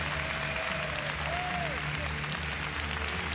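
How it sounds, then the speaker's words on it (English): A crowd at a street skateboarding world cup semi-final in Kitakyushu, Japan, applauds and cheers in a steady, loud roar. A commentator's voice runs over it and a few tonal sounds drift through. "Always good to hear the crowd screaming for you"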